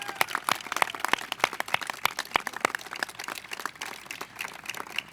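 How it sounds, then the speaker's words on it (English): Scattered, fairly light applause from a modest crowd at an outdoor civic launch event for a park alliance in Queens, with sharp separate claps that keep up steadily for about five seconds and no talking. "Let's give you all a round of applause."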